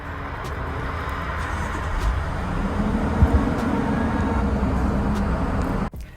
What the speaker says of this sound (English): let us start up the twin-turbo V6 of the Toyota Land Cruiser